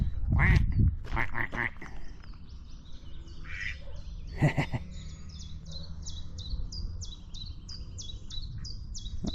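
A duck on a canal quacks several times in quick bursts early on and once more midway, while small birds chirp and tweet repeatedly in the background.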